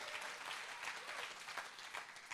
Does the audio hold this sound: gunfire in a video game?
no